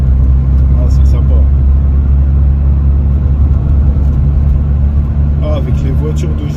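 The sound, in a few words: car interior noise and vibration at speed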